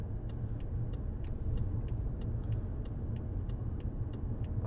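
A 2015 BMW 535d 3.0 diesel saloon running on the road, heard from inside as a steady low engine rumble and road drone with faint regular ticking, fairly quiet and without talk.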